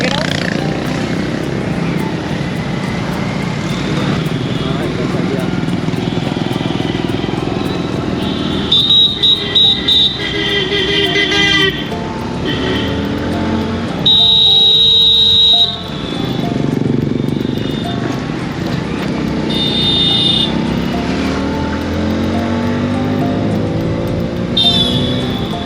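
Motorcycle engines hum and drone along a crowded road during a Sawan pilgrimage fair on the way to Neelkanth, a continuous traffic din with passing bikes, brief high electronic beeps, and people talking throughout.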